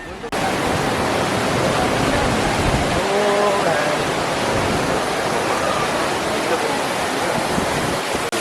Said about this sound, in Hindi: भाई तो भक्का मार रहा है वाटरफॉल सामने से